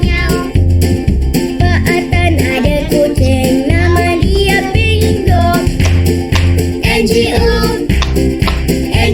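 Sung "miau miau" meows in a Malay children's song about a farmer's cat named Bingo, a voice imitating a cat over a loud, bouncy musical backing with a steady beat throughout.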